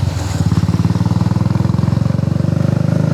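A motorcycle engine at an offroad 4x4 motor sport event in Thirthahalli runs close and loud, a steady rapid thumping idle with no voices over it.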